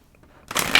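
Tarot cards being shuffled by hand: a short, loud papery riffle bursts in abruptly after a near-silent moment.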